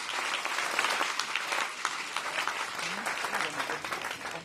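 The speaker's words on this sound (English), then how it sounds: "Applause for this man." Applause breaks out at a ribbon cutting ceremony for a grand opening, a crowd clapping steadily for several seconds at moderate distance, with a voice speaking over it near the end.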